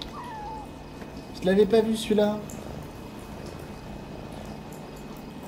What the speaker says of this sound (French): Oh, un chat!